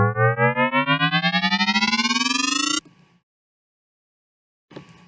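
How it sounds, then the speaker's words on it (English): Self-made FM synth riser built from sine waves modulating each other sweeps steadily upward in pitch with a pulsing wobble, cutting off abruptly, followed by near silence and a brief faint tail. "So this riser sound that I have, something I actually made myself."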